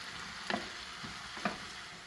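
Garlic and cheddar sauteing in a pan give a faint, steady sizzle, with two soft stirring scrapes about a second apart.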